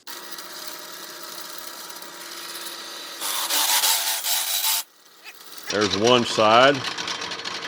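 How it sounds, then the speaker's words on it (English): A step drill bit in a drill press cuts through scrap steel for a truck hitch mast mount, giving a close grinding rasp that swells louder midway, then someone speaks briefly over the motor. "we've got a step drill set up here in the drill press"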